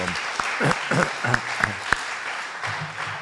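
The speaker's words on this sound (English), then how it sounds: "I really think that we should all join in a round of applause for" An audience at a James McGill Society meeting applauds, with a brief scattering of claps and a few sharp individual hand claps in a room, fairly faint and thin rather than a full ovation.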